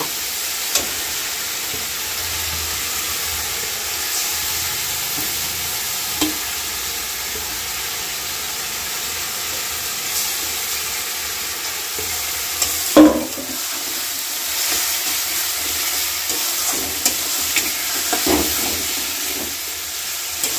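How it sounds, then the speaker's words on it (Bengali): Chicken pieces fry in a kadai with a constant close sizzle and hiss of steam, broken now and then by scraping knocks of a spoon stirring the meat, with no talking. "চিকেনটা কড়াই দিয়ে দিলাম, দিয়ে এখন কষি।"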